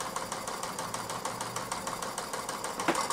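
A Mamod SP8 "James Watt" stationary model steam engine runs fast, giving a steady, quick mechanical chuffing and rattling rhythm at moderate close range, with no talk.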